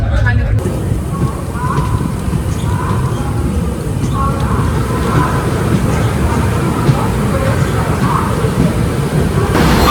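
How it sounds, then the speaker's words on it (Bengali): Heavy rain pours at Bhubaneswar station with thunder, a loud, dense, continuous roar with deep rumbling underneath and faint voices mixed in. "আর এখানে প্রচুর বৃষ্টি হচ্ছে"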